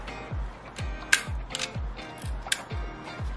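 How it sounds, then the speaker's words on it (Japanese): Shutter of an old Leotax rangefinder film camera with peeling leatherette and no self-cocking, fired and worked by hand: a series of short mechanical clicks and clacks with a couple of sharper snaps, close and fairly quiet, without talk. "ちゃんとここでね、シャッター切れるんですね。"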